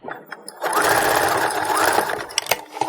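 A sewing machine stitches gathered ruffles onto a dance skirt, a close rapid mechanical whirr that starts after a few handling clicks and runs for about two seconds before stopping, followed by light handling noises.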